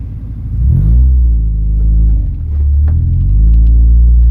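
Engine of a lifted Honda CR-V in two-wheel drive on an off-road trail, rumbling loud and close as it revs and accelerates in surges, with a dip midway before pulling hard again, plus light rattles and scrapes.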